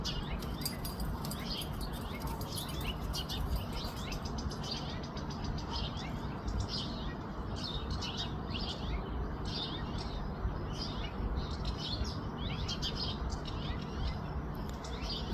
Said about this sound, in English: These birds are pissed that he's up there.